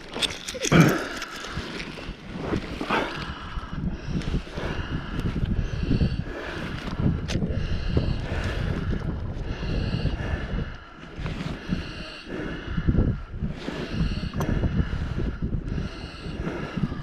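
Gusty wind blows outdoors near an osprey nest in Viru-Nigula parish, buffeting and rumbling continuously over the full length, with faint clicks and rustles mixed in and no voices.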